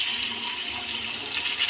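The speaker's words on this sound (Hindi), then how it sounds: "अब इसी पानी को हम यहाँ डाल देंगे।" Boiled gatte water pours steadily into a pan of besan gatte sabzi, a continuous close splashing rush of liquid with no speech over it.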